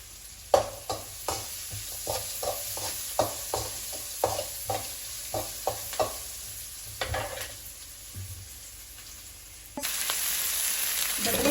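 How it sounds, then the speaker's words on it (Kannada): Onions fry in a pan, a continuous close sizzle punctuated by regular scraping stir strokes, then the hiss swells louder and steadier near the end, with no one talking. "ಈರುಳ್ಳಿ ಫ್ರೈ ಆಗ್ತಾ ಇದೆ."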